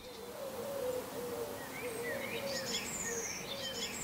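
Small birds whistle and chirp faintly outdoors in a quiet village centre in Stiens, with scattered thin calls over a soft, steady background hush and no talking.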